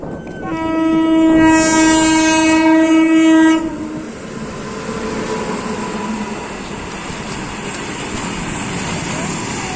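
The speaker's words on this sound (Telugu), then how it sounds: "ఇప్పుడైతే మనకి నార్మల్ లోకల్ ట్రైన్ వస్తుంది, గూడ్స్ అనమాట." A local goods train sounds a loud sustained horn for about three seconds as it arrives, followed by steady rumbling and clatter of wagons rolling past nearby.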